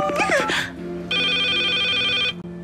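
A telephone rings with a sustained electronic tone lasting about a second, following a short burst of voice-like sound, in a French comedy sketch.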